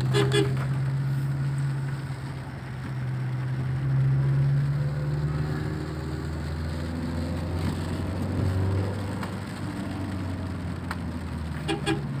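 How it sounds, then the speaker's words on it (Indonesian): Car horns toot repeatedly on a winding road to Batu Lintang in Aceh Tengah, sounding over steady engine and road noise from inside a moving car. "klakson main terus ini"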